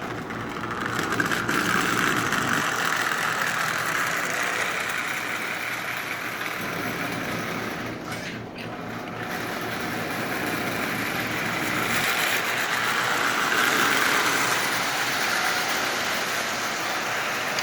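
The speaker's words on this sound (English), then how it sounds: "this old locomotive is running absolutely perfectly" An old prewar Marx toy locomotive motor, newly repaired and fitted with a traction tire, runs in a steady, even whir. The sound is continuous and close, with a faint brief dip partway through.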